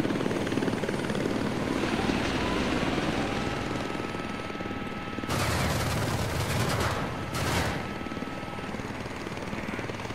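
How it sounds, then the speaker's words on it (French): Helicopter rotor and engine roar in a video game, loud and continuous throughout, with bursts of gunfire and explosions around the middle and a distant aircraft hum; no talking. "alors l'hélico."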